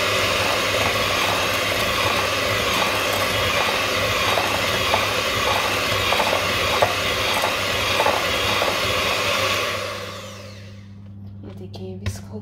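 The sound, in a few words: manually whisking melted butter and sugar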